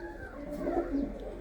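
A pigeon in a loft gives a brief, soft coo against a low background hum, one short rolling call with no speech.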